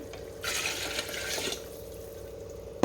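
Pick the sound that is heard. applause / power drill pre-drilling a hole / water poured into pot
water poured into pot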